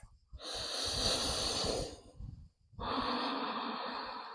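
Two long, deep breaths during yoga child's pose: a loud rushing inhale through the nose, a brief pause, then a forceful airy exhale, heard close with no talk.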